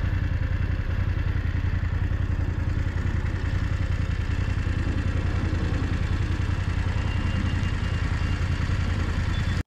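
A small motorcycle engine runs steadily and loud throughout, with a dense low rumble and mechanical clatter from street footage, continuous and uninterrupted.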